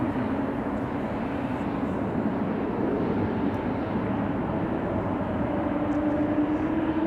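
A KLM Embraer 195-E2 airliner departing Amsterdam Schiphol Airport, bound for Bilbao, gives a steady, distant jet roar with a low engine hum, heard alone without talk.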